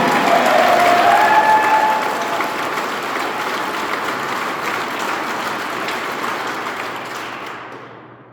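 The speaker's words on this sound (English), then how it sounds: "I want you all to give yourselves a big round of applause" A roomful of people at a public meeting on eminent domain and a carbon pipeline in South Dakota give themselves a round of applause, dense steady clapping that holds loud, then thins and fades out at the end.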